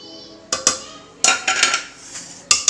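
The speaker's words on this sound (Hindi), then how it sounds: "और अब हम इसको अच्छे तरीके से मिक्स कर लेंगे ताकि सारा मसाला बीच में रच जाए।" Chicken is tossed with crispy fry masala in a metal bowl, making a few sharp clinks and scrapes of utensil against the dish in uneven bursts, close and fairly loud, with no one talking.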